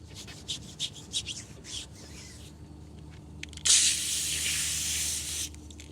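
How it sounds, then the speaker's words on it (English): A stiff tire brush scrubs a car tire during a detail with a Tesla detailing kit: a run of quick, close rubbing strokes, then a louder, continuous bristly scrubbing that holds steady before stopping. "I have a brush dedicated to specifically washing tires"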